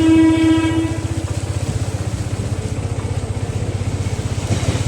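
A train at the Payraganga railway gate on a rainy day sounds its horn loudly at first, then its wheels clatter past close by in a steady, rapid rhythm.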